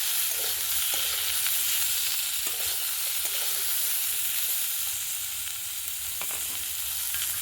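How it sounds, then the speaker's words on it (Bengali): New potatoes frying in a wok, a loud steady hiss of oil throughout with occasional soft stirring clicks, close and without talk. "ভালো করে আলুগুলো লাল লাল করে ভেজে নেব।"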